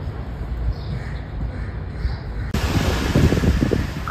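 Waves of the Sea of Oman washing onto a beach of light sand on Muscat Bay, a steady broadband rush of surf mixed with wind noise on the microphone, loud and continuous, no talk.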